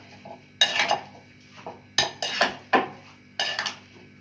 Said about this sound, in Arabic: غنخلط المكونات مع بعض.